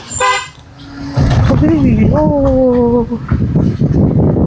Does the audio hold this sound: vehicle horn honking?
yes